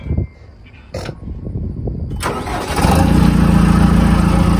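A tractor engine starts and then runs loudly and steadily near a 200-year-old brick house as a man is lowered from the chimney.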